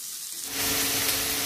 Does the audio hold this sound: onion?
yes